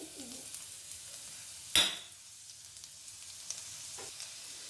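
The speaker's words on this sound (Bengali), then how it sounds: "তেলটা গরম হয়ে গেছে। এবার 1 চামচ আদা রসুন কুচি দিয়ে দিচ্ছি।" Chopped ginger and garlic hit hot refined oil in a wok, giving one sharp sizzling burst that quickly settles into a quieter crackle, close up with no talking.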